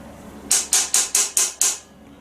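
Six sharp metallic taps strike a nut held stiffly in place on a Nissan transmission PC solenoid, evenly spaced and close, each ringing briefly before the next.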